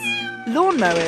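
A cat gives a single clear meow that swoops up and falls back down, heard just after a brief spoken word.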